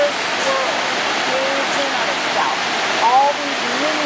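Water rushes and swirls through the Niagara whirlpool rapids, a loud, continuous broadband roar close by, with a voice talking faintly over it.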